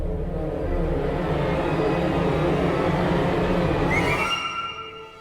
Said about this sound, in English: effects, orchestral effects,